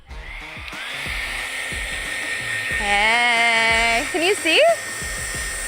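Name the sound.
hair dryer blowing on a phone case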